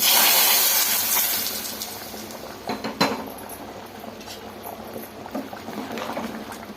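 Hot tempering poured into karimeen (pearl spot fish) curry with cooked brinjal and potato bursts into a loud, close sizzle that fades over several seconds, followed by faint clinks of utensils against the pot.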